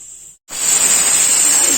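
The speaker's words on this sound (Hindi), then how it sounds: "गाइस देखिए इसमें सीटी आने वाली, 2-3 सीटी आएगी तो ये बन जाएगा।" A pressure cooker lets out a loud, steady, high hissing whistle while Kashmiri haak saag paneer cooks with a pinch of soda. The whistle cuts in abruptly after a brief silence and then holds continuously.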